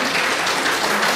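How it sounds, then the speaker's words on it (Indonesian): A church congregation at a healing prayer service cheers and applauds continuously, a dense wash of clapping and voices that holds steady at full strength throughout. "Dengan sorak-sorai buat Tuhan Yesus."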